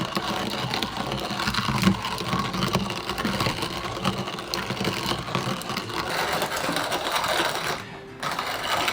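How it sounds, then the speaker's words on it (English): Hand grinder crushing coffee beans to a coarse grind for cold brew inside an RV; a continuous close, gritty crunching and rattling that keeps an even pace, with a brief dip near the end. "This is going to be cold brew, so I'm grinding it very coarse."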